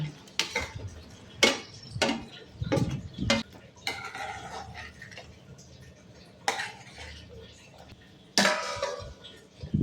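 Onions go into a masala in a pan and are stirred, with repeated sharp scraping and clinking of a spoon against the metal pan, sometimes in quick bursts, with quieter sizzling and shuffling between.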